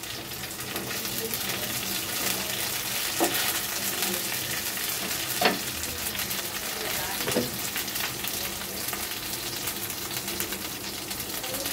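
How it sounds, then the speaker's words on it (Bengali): Onions fry until reddish in a pan, sizzling steadily up close while a spoon scrapes and stirs now and then, adding sharper clicks over the continuous hiss. "তো পেঁয়াজটা আমি একটু লাল করে ভেজে নিয়েছি।"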